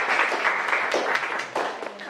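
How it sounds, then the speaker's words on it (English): Audience applause at a talk, a moderate patter of clapping hands from a smallish crowd in a room, steady for about two seconds at mid distance. "Have an initial round of applause for the"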